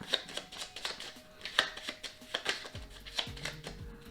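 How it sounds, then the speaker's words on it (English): Deck of cards being shuffled for a board game, giving a series of quick papery riffles and soft taps close by, with a low hum in the background and no voices. "I guess we got to shuffle the deck"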